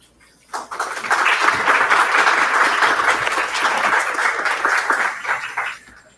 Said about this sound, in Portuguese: Eu ouvi as palmas aí.